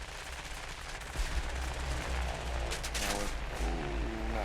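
Dense, continuous machine gun fire from a Soviet fighter plane in an air combat video game, rattling loudly over steady engine drone with overlapping bursts throughout.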